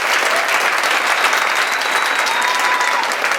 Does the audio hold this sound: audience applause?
yes